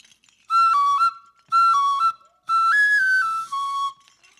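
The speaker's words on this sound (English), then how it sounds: "And this one is a wooden whistle from Africa." A wooden whistle from Africa gives three bright, reedy blasts, the last one longer with a pitch step, loud and close with short gaps between them.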